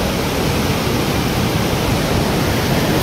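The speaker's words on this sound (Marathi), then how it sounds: "हे पाणी" Rushing mountain water on the Kedarnath trek in the rainy season roars as a steady, loud, broadband torrent that never lets up, with no voices over it.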